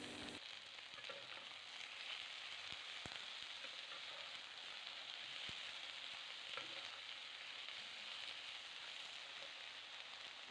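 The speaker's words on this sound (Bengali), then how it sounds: "এই আলুগুলো দিয়েও আরও 2 মিনিট আমি আলুটাকে ভাজা ভাজা করব" Long-cut sliced potatoes and onion fry in a pan of oil with a steady, close, continuous sizzle and a few faint stirring clicks, with no voices.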